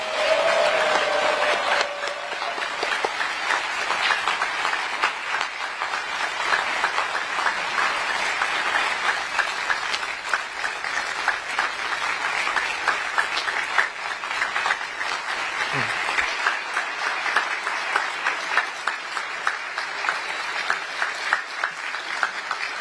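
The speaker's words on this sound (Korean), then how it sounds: "다시 한번 대통령님께 큰 박수 보내주시기 바랍니다." Sustained audience applause at a presidential inauguration, a steady roar of many hands clapping that carries on for over twenty seconds, with a brief voice near the start.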